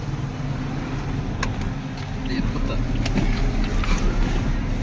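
A 2017 Toyota Vios 1.3 G manual on a test drive hums steadily from inside the cabin, engine and road noise rising slightly as it picks up pace, with faint clicks and rattles.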